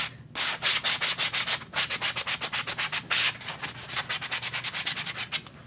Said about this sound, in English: So I take some sponge sanders and